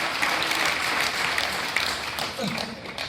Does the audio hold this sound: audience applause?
yes